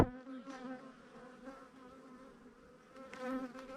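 Honey bees buzz around a backyard beehive during an inspection, a soft, steady hum from several insects with faint rising swells, heard alone.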